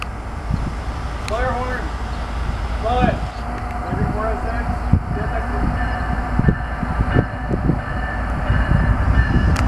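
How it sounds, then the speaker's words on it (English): A CSX westbound coal train rolls past with a continuous low rumble and rattling wagons, heard up close outdoors. A voice speaks over it in places. "got CSX westbound coming"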